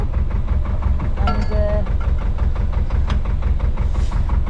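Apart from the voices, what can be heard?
narrowboat engine running at idle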